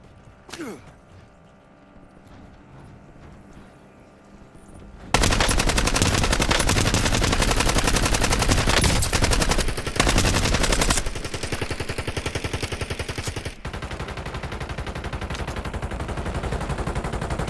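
Rapid automatic gunfire in the video game Call of Duty Warzone, loud and sustained bursts after a quieter opening, with sharp shots and mechanical clatter continuing throughout.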